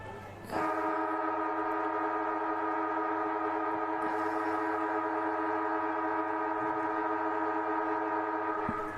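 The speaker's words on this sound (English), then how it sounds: "that was the one of the longest sirens you'll ever hear in football history there, Stu." A long, loud, steady siren blares continuously for several seconds at an under-18 Australian rules football match, its sustained tone dominating with a faint crowd murmur beneath.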